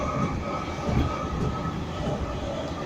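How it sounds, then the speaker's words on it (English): A Southern Class 313 three-carriage electric train on the Coastway line toward Littlehampton rumbles past close by, a loud continuous roar of wheels and motors with no talk. "3 carriage train going to Littlehampton."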